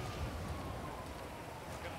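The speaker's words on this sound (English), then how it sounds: "Oh yeah, it's raining." Steady rain in GTA V, a continuous soft hiss of falling drops spread evenly across the moment, faint and constant with a low rumble underneath and no clear voices.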